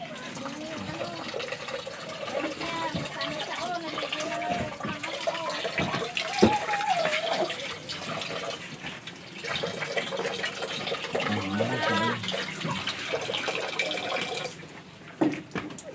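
Tap water runs in a family's home in a Manila slum, a steady rushing stream that carries on beneath people talking nearby.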